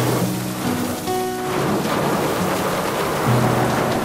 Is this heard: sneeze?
no